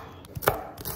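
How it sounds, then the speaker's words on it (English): A knife chopping onion, celery and carrots on a board, a few quick, close, crisp strokes in a quiet kitchen. "like I'm chopping my onion, celery, and carrots right now"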